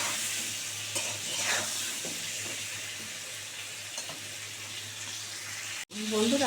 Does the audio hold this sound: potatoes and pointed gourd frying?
yes